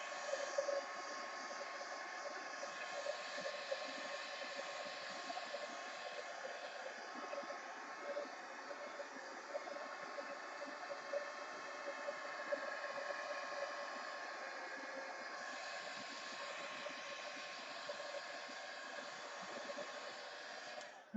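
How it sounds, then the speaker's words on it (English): A heat gun drying wet paint on a mixed-media art journal page blows with a steady, even whoosh that stays fairly quiet and unbroken for about twenty seconds. "Let me hit it with a heat gun for a second."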